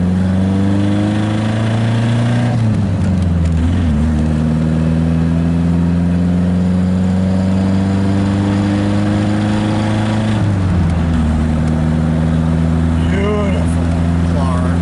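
A car engine that has sat unused for ten months runs steadily close up, holding a low, even drone with two brief shifts in pitch where it is revved, and voices talk over it.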